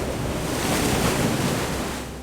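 Steady loud rush of water in the FloodDragon deep-diving game, a broad churning wash that holds for a couple of seconds and tapers slightly at the end, without speech.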